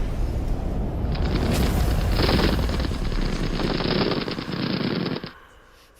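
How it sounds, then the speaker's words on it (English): Mortar and gunfire in a video game, a loud, dense stretch of rapid blasts and rattling fire that holds steady for several seconds and then cuts off abruptly. "Take cover! When did he get a mortar?"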